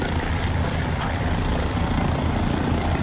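A helicopter in the military shooter game Squad drones steadily and loudly with a constant rotor and turbine roar, a high whine running through it, no talk.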